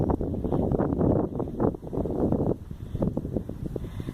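Wind buffets the microphone in loud, gusty rushes on a hot day at a farm, easing off partway through, with rustling underneath.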